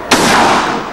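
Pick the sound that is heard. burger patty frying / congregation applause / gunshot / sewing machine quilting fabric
gunshot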